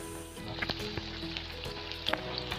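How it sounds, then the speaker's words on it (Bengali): Chicken pakoras deep frying in oil make a soft, steady sizzle with a few brief crackles and faint clinks, close by and low in level. "দেখুন আমার পকোড়াটা মুচমুচে করে ভাজা হয়ে গেছে"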